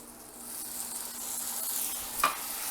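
A cornstarch slurry sizzles loudly as it hits a hot pan of sauteed apples, a steady bright hiss with stirring scrapes and a sharp clink near the end, and no talk.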